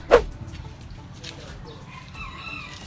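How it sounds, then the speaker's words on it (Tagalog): Farmyard chickens give one loud, close cluck, then fall quiet under a soft, steady outdoor background with faint distant calls. "So mao sad ni guys ang mga manok sa akong partner"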